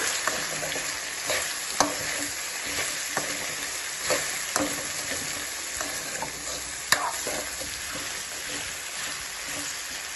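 Potatoes fry and get stirred in hot oil with turmeric, making a steady close sizzle. Spoon scrapes and clicks against the pan break through now and then.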